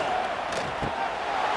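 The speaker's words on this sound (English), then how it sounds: "The roar of the crowd trying to fuel this defense to keep them pinned in their own end." A stadium crowd in a College Football 26 simulation of Illinois versus Wisconsin roars as a continuous, loud wash of cheering with a thud partway through.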